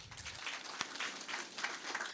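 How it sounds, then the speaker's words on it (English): An audience at a book launch of short stories by Saint Lucian authors gives a short, fairly faint round of scattered applause. "A round of applause, please."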